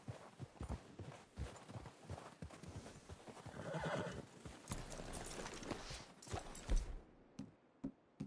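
Horses in the Red Dead Redemption 2 video game, with steady clip-clopping hooves and snorting neighs close by, quiet overall and ending with a few scattered hoof steps.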